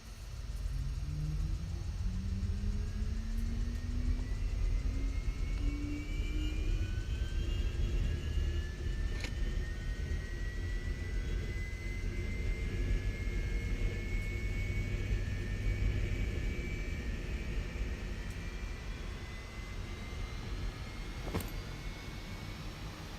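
Turboprop engine winding up in a flight simulator, a Carenado B200 King Air: a steady low rumble with a slowly rising whine that climbs over the span, loud and continuous, with no talking.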